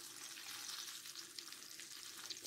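Soft, continuous sizzling and crackling of pancakes (blini) frying in a hot pan, steady and close, with no talking.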